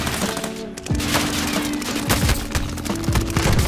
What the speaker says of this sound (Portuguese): Nossa, que tiro, meu Deus.